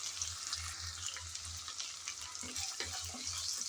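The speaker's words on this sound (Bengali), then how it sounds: "এখন আদা রসুন বাটা পেঁয়াজের সাথে নেড়েচেড়ে ভেজে নিতে হবে" Ginger-garlic paste and onion frying in a pan, a steady soft sizzle with light scraping as the mixture is stirred, heard alone and fairly quiet.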